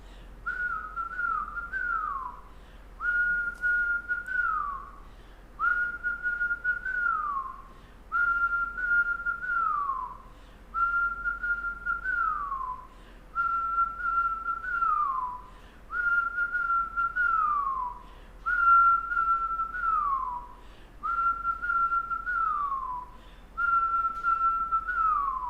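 Rhythmic whistling during kundalini yoga breathing: about ten evenly spaced whistled exhales, each holding a pitch and then sliding down, close and clear with quiet pauses between.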